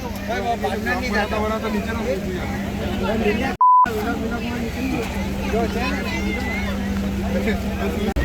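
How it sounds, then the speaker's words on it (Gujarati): A ferry engine drones steadily under continuous chatter from passengers aboard, broken once by a short electronic beep, on a ride to Elephanta Caves, Mumbai. "બોટ નીકળી ગઈ છે, બીજી બોટ આવે નહીં. આ બોટ ચાલી."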